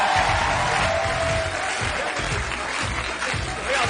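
A television studio audience applauds the arrival of a guest on a French talk show, dense sustained clapping with some cheering, loud and continuous from start to finish.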